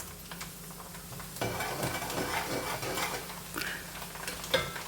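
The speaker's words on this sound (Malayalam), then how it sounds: "നന്നായിട്ട് പൊരിയട്ടെ അരിയൊക്കെ. അരി പൊരിയാവട്ടെ." Rice grains sizzle and crackle as they fry in a pan for a South Indian spinach stir-fry, a steady close hiss with occasional stirring scrapes and utensil clinks.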